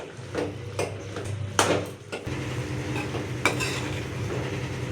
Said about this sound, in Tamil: இப்போ இதெல்லாம் நல்லா மிக்ஸ் பண்ணிக்கலாம். இதை மிக்ஸ் பண்ணிட்டு கொஞ்சம் நேரம் இதிலே அடுப்பிலே விட்டுட்டு சிம்மில் வச்சிடலாம்.